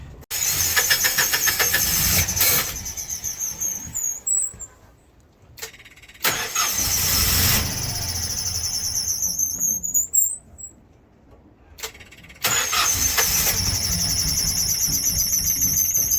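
A small boat generator engine cranks and catches twice, running with a steady rough drone between short pauses, close by.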